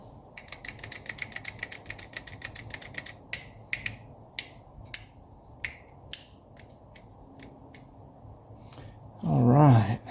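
A dashboard switch in a 1982 Mercedes 240D clicks repeatedly: a fast run of sharp clicks, then slower single clicks spaced apart, close and crisp, with a short burst of voice at the end.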